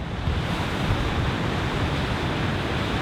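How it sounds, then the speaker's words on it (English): Niagara Falls pours down in a steady, dense roar of rushing water that stays loud and unbroken throughout, with no voices over it. "Well, the falls is still here."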